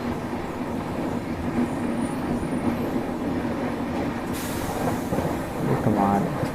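The Coromandel Express, a locomotive-hauled passenger train, runs at speed with a continuous rumble and steady rattle heard from inside a coach.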